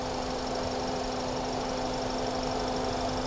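A 2017 Toyota Vios 1.5G engine idles with the air conditioning running, a constant humming drone and a faint whirring tone, unchanging throughout.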